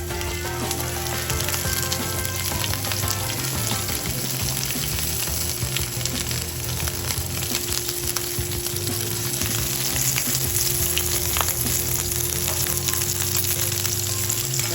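Sausage browning in a frying pan at a pizza bar kitchen, a loud continuous crackling sizzle heard close and steady throughout, with no voices.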